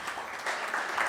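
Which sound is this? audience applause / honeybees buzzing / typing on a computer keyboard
audience applause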